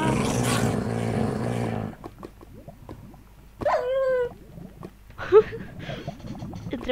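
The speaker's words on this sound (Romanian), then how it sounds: "de ce face ca un câine lupul atunci când moare?" A wolf dying in Minecraft, a short dog-like yelp and whine heard twice, clear against a quiet game background after a burst of noise at the start.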